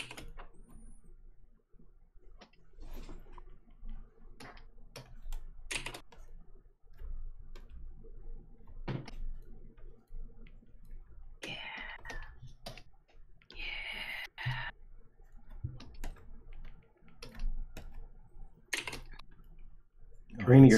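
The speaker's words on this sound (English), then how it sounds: "Karina, you're typing so loud." Rapid clicking of computer keyboard keys, typed loudly during an online drawing game, comes in scattered bursts of taps under frequent overlapping conversation and laughter.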